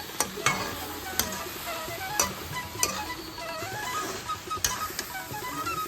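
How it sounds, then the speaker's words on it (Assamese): Banana flower curry sizzles and fries in a pan while being stirred, with repeated sharp scraping clicks of the spatula over a steady frying hiss. "এনেকৈ প্ৰায় 15 মিনিট সময় ভাজিব।"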